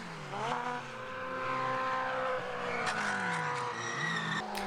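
750 Formula race cars at Mallory Park, with engines rising and falling in pitch as they pass close by. A brief squealing note suggests wheels locking under braking, and nobody talks.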